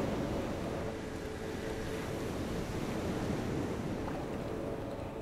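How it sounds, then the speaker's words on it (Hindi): Steady roar of sea waves washing in continuously, broadband and constant, with a windy edge and no distinct breaks. "समुद्र की लहरें आ रही हैं."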